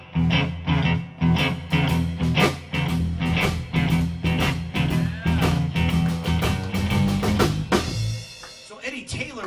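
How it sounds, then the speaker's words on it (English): A loping Chicago blues shuffle groove on electric guitar with band accompaniment, played live in a bar, steady swung rhythm, loud and full, ending in a final strummed chord. "The typical Chicago shuffle kind of sounds like this."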